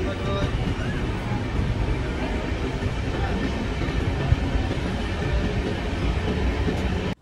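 Jan Shatabdi Express train in motion on the Vijayawada to Chennai Central line, a steady, dense rolling rumble of carriages with faint wheel clatter, heard from inside, continuous throughout.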